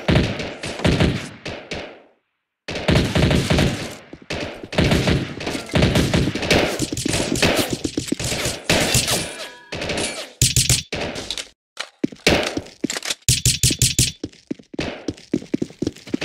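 Video game gunfire as covering fire: loud, near bursts of automatic shots and rapid single cracks in dense clusters, broken by brief silences, with thuds and impacts mixed in.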